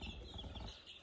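Young lavender Orpington chickens clucking softly in a brooder, a brief, faint, close-up patch of low murmuring clucks over a steady background hum.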